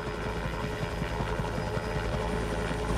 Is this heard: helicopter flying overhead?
yes